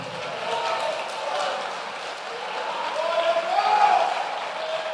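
Church congregation applauding the Lord in a Pentecostal service, a steady wash of clapping with voices mixed in, swelling slightly toward the end.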